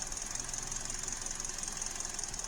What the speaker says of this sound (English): it's misfiring sitting here at idle even with no load on it